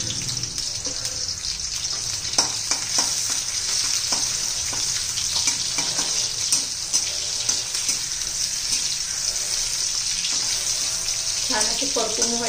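Garlic and green chili fry in hot oil for dill greens, a loud continuous hissing sizzle that holds steady throughout, with a brief clatter near the end.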